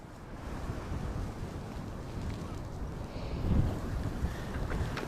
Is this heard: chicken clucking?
no